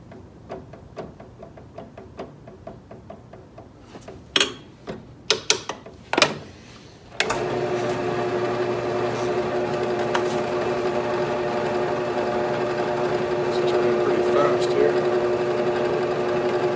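Clicks and clunks of a drill bit being lined up, then an electric drill boring metal on a Norton Commando motorcycle starts up and whines steadily at high speed for a long stretch.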